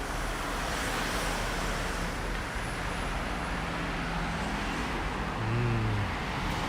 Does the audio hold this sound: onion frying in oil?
no